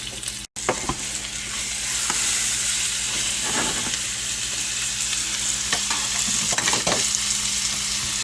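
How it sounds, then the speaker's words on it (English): Onions, mushrooms and green peppers sizzle steadily in a hot pan, with occasional scraping stirs and clacks of a utensil; no one speaks. "she will also be frying up the onions, mushrooms, and green peppers in the same pan"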